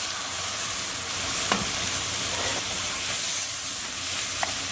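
Lamb pieces go into a pan of softened onions and crushed garlic, frying with a steady, fairly loud sizzle and a few faint clinks of stirring, with no talking.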